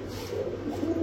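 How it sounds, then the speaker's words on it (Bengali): A young male German Shield pigeon of opal colouring coos on its own, a low throaty murmur rolling steadily through the short moment, close by and moderately quiet with no one talking. "একেবারে ফুল ফ্রেশ একটা নর কবুতর। এ দেখে একাই ডাকে।"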